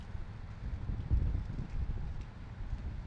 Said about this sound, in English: Like wind and a wet noise going on.